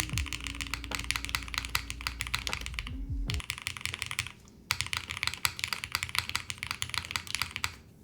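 Rapid, steady typing on a Matrix MRTAXI mechanical keyboard fitted with foam, dense clicky keystrokes close-up with a short pause midway before resuming, over a low background hum.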